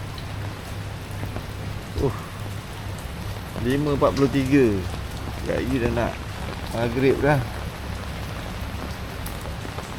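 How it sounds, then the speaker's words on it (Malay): Steady rain patters throughout, with a person speaking briefly over it in the middle. "Hujan sepanjang hari."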